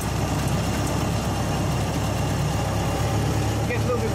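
A Ford Model T engine pulls away in low gear, giving a steady, close, rough drone with a low rumble that holds at an even level throughout.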